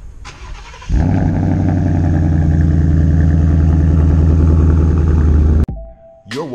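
A Lamborghini Huracan's engine catches with a loud burst, then holds a deep, steady, close rumble for several seconds before it cuts off abruptly, with no talking.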